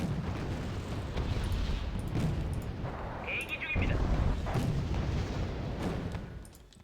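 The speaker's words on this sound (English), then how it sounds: "Oh, Type 92 is firing." Type 92 artillery firing in Wargame Red Dragon, a series of deep booming blasts with rumbling explosions spread across the clip, mid-distance, while someone talks over it.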